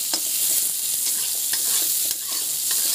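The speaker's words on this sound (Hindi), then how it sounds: "प्याज डाल दी, प्याज को अच्छे से चला लेती हूँ।" Chopped onions sizzling in hot oil in a home kitchen pan, a steady bright hiss broken by short scraping stirs of a spoon, close and continuous.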